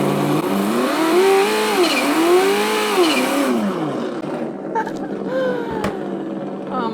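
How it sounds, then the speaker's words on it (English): Traxxas TRX-4 RC crawler with the ESS ONE+ engine sound system produces a simulated engine start, then loud rising and falling revs as the throttle is worked, settling toward idle near the end. "I'm going to start the engine, and then it goes to idle. And if you throttle up,"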